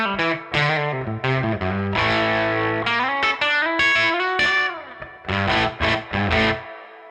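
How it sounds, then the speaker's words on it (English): Electric guitar through a Baroni AFK150 amp's clean channel with the gain pushed into breakup. Melodic single notes and chords ring out loud and sustained with a slightly gritty, harmonically rich edge, no talking. "we can actually push the gain quite nicely there and actually get some breakup"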